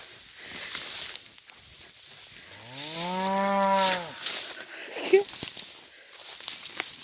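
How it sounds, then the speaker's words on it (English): Cattle on a farm being moved along a new fence line let out one long, low moo midway, with footsteps and rustling nearby and people talking quietly in the background. "I think the cows have found their way, and they're off to the races."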